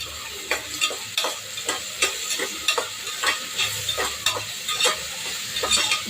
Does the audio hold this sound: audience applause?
no